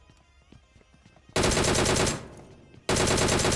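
DP-28 light machine gun fire in PUBG Mobile on Erangel, two loud sustained bursts of rapid automatic shots cutting in after a quieter stretch of faint game sounds, the first burst trailing off before the second begins.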